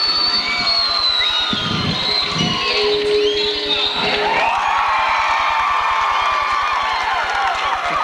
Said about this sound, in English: We have a pretty good crowd here tonight.